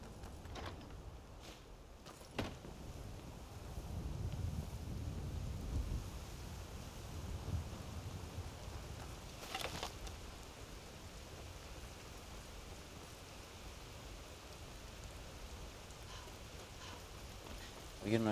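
Rain falls in a video game, a soft continuous hiss with a faint low rumble like distant thunder and a few sharp clicks, quiet throughout.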